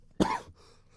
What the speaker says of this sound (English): I was gonna sneeze, but I coughed every time.